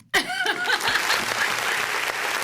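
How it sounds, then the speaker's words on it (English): A canned applause sound effect on a sports-picks podcast, starting abruptly and then holding as a bright, dense clapping bed, with a voice and a bit of laughter over the start. "Play some applause."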